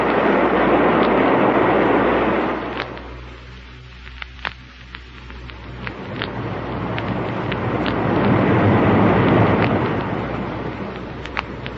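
A spaceship taking off in a Buck Rogers radio drama: a loud, roaring whoosh of rumbling noise that swells, dips in the middle with scattered crackles, then builds again to a broad roar, with no voices.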